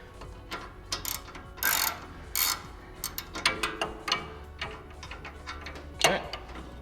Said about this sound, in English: And then we just remove the nut all the way.